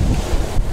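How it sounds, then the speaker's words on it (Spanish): At sea about 100 miles from Jamaica, a sailboat making 7 knots through huge 3-metre waves, with gusts up to 32 knots, is heard as loud, rumbling surf and wind buffeting the microphone, with no voices. "El mar está espectacular, olas enormes de 3 metros, vamos a unos 7 nudos y el viento, pues hay rachas hasta de 32 nudos"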